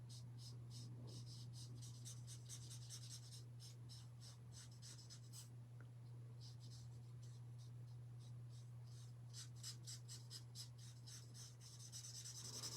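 Pencil coloring on a card: quiet, rapid scratchy strokes come in bursts against a low steady hum, pausing briefly midway before resuming.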